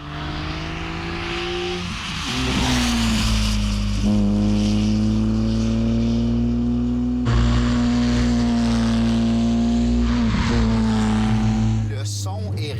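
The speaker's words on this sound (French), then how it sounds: "Le son est rien de moins que jouissif. J'ai le moteur directement derrière moi." Renault Clio V6 with its mid-mounted engine right behind the seats, heard from inside while driving: loud, rising and falling engine harmonics through several gear changes, with someone talking over the drone.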